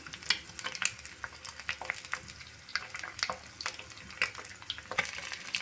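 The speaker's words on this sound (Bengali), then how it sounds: "এখন আমি একটা একটা করে ডিম দেব। তেলটা গরম হয়ে গেছে," Eggs frying in hot oil, a continuous crackling sizzle with dense sharp pops and spits close up, no voices.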